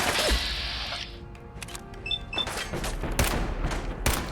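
Gunfire in a video game, several sharp shots cracking out over an ongoing battle din, with a loud broadband burst early and further reports spaced through the rest of the clip.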